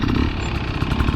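A dirt bike engine holds a steady throttle during a slow cone weave drill, a loud, close, even motor drone with a fast, unbroken pulse and no talk.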